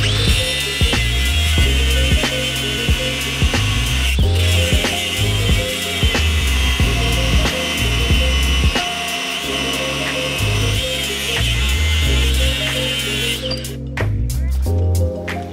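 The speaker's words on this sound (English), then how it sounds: "Not too bad for an angle grinder" An angle grinder works over a hard steel steering knuckle, producing a loud, continuous high whine with grinding bursts and brief stops, close to the ear throughout.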